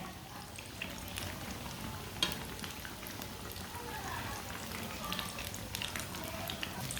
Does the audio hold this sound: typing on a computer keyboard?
no